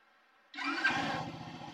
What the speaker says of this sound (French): Et votre moto, elle est censée démarrer. Elle démarre comme cela, sans besoin d'accélérer.